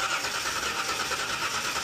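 A car engine cranks over on the starter during a relative compression test, a steady, even churning whir close by that lasts under two seconds, without voices.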